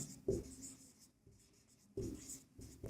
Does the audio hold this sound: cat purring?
no